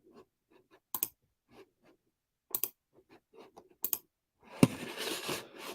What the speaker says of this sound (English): Even if I type it in here,